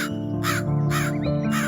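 A cartoon crow caws in four hoarse, evenly spaced calls over a sustained tonal music bed, loud and close.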